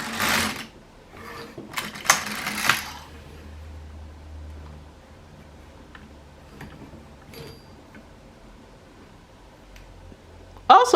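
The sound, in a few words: LK150 knitting machine knitting backward four needles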